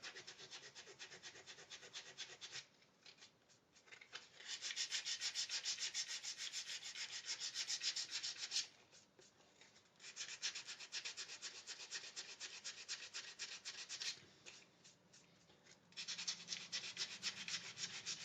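Hand sanding with 240-grit sandpaper to work scratches out of a custom guitar body in a luthier's workshop: close, raspy back-and-forth rubbing in long bursts, separated by brief quieter pauses.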